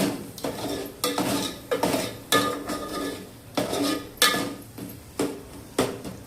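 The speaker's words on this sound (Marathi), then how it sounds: "आता ह्याला पण मी थोडंसं झाकून ठेवणार आहे" Metal pot and lid clatter repeatedly over a pot of tomato curry, a series of sharp clanks and scrapes in an irregular rhythm, close and fairly loud, with no talking.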